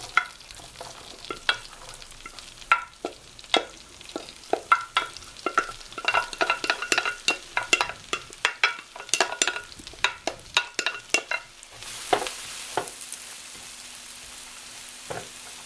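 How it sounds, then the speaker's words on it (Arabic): Vegetables fry in a pan with butter and olive oil, crisp sizzling punctuated by repeated sharp scraping stirs and clinks of a utensil, close and fairly quiet, with no talking. "وهلا بنحطهم كمان مشان نقليهم."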